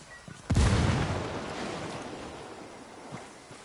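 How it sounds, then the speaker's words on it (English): A frag grenade detonates in a tactical shooter game with a sharp, loud blast followed by a long rumbling decay that fades over a few seconds, standing alone. "Let's just throw a frag grenade."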